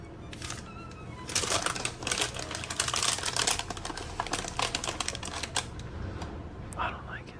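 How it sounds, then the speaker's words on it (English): Parchment paper is folded and handled on a kitchen counter, giving dry crinkling and crisp rustles in irregular bursts, close and fairly loud, with a voice now and then. "I don't like the sound of parchment paper being folded and stuff."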